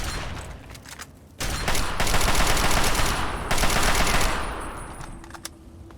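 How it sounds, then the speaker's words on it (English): Fallout 3 gunfire breaks in with loud, rapid automatic bursts that run in two long stretches separated by a short dip, then tail off into scattered single shots. "Firing."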